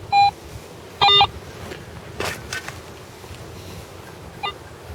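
A metal detector beeps over a coin in two short electronic tones at the start, then faint rustling and digging sounds, and a weaker tone near the end, heard close in open surroundings.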